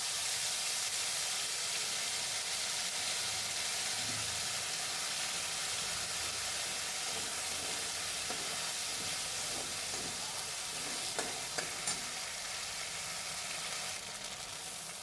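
Spice paste with dried chili and black cumin frying in a pan, a steady broad sizzle and hiss that holds throughout, with a few faint stirring knocks near the end.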